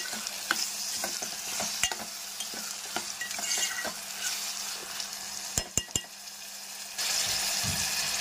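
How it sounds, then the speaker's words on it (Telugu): Tomatoes frying in a pan with onion, egg and okra nearby, stirred with a spoon: a soft continuous sizzle broken by sharp scraping and clinking strokes against the pan, several close knocks near the end, no voices. "మనకి టమోటా మగ్గేంత వరకు మనము ఒక 2 మినిట్స్ ఇలా కలుపుకోవాలండి"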